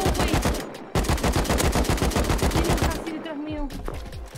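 Rapid automatic gunfire in the survival video game Rust during a surprise raid, a dense stream of loud shots with a brief break near one second, fading into scattered shots toward the end.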